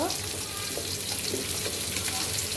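Onions frying in white cooking oil in a pan, a steady broadband sizzle with light stirring scrapes running throughout at close range.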